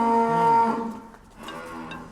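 A heifer on a dairy farm gives a low, drawn-out moo that slides downward, followed by a fainter, rougher call, close by, with no talking.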